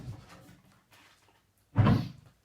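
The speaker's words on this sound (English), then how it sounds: "and they actually fell into my drawer." A wooden drawer slides and bumps shut in one loud, close burst near the end, after a stretch of quiet room rustling.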